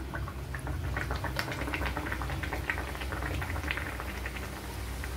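Luchi frying in hot oil, a dense steady bubbling and crackling that stays close and even throughout, with no voices.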